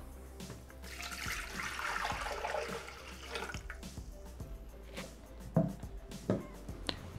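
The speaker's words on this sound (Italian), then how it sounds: "versiamo l'acqua" Water is poured into a Thermomix bowl, a soft steady splashing stream lasting a few seconds, followed by light clinks and knocks of kitchen handling.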